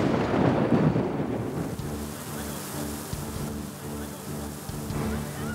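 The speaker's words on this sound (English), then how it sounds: "a torrential rain began to pour" A thunderstorm with torrential rain: a deep rumble of thunder swells at the start, then a steady wash of heavy rain continues beneath it, fairly close and dense.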